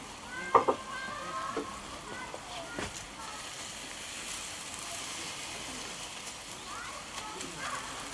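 Rice cooking in a paella pan with prawns, chicken and tomato juices over a braai, a soft continuous sizzle with a few clanks of a utensil near the start and occasional stirring.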